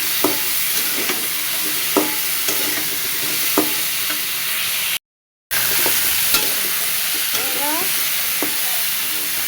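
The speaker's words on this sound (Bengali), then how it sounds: "দিয়ে ভালো মতো তরকারিটা কষায় নেব" A vegetable curry with salt is stir-fried in a pan, producing a continuous close sizzle broken by repeated spoon scrapes and taps, with a brief silent gap midway.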